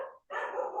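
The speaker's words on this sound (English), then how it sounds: "You may be able to hear my dog barking in the background." A pet dog barks indoors: two sharp, close barks separated by a brief gap, the second longer and louder, with no speech over them.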